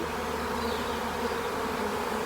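Wasps buzz continuously around a honeybee box, a close dense droning hum that holds steady from start to finish with no talking.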